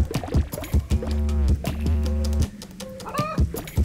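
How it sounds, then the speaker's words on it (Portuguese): Chickens cluck in the video game Donut County, several quick, rhythmic clucks and squawks up close, loud and busy, with no speech. "Agora tem umas galinhas."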